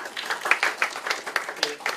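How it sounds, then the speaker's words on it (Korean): Audience applause at a Korean real estate finance investment forum seminar, following welcome and congratulatory speeches; a dense spread of many hands clapping at moderate level, steady for a couple of seconds. "다시 한번 박수 부탁드리겠습니다"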